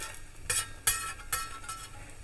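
An egg and cheese omelet cooks in a pan with a soft, quiet sizzle, broken by three brief louder scrapes or stirs spaced about half a second apart.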